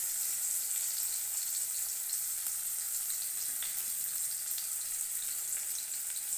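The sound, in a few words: onions and chopped tomato frying in a pan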